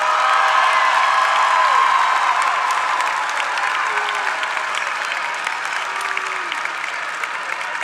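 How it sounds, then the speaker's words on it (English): Sustained audience applause fills the hall for master's graduates at a convocation ceremony. It is loud and dense at first, then eases off slightly toward the end, with faint crowd voices mixed in. "How about a round of applause for all of our master's graduates?"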